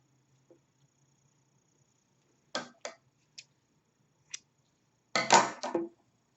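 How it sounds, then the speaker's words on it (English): Scissors snipping crochet yarn: a series of short, sharp crisp cuts, close and isolated, a few single snips followed by a quick double snip near the end, with near silence in between. "now you're going to take and cut the previous yarn"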